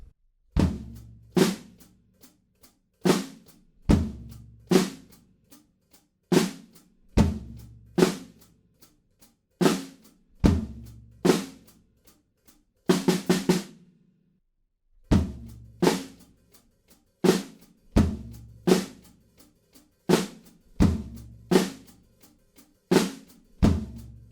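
A steady rock drum beat with kick, snare and hi-hat plays alone, broken midway by a quick four-sixteenth-note fill on beat four before the groove resumes.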